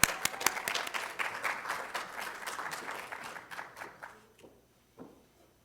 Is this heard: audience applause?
yes